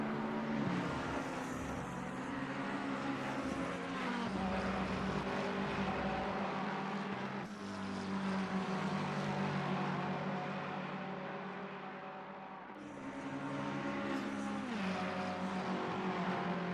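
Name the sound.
race cars on track in Assetto Corsa Competizione video game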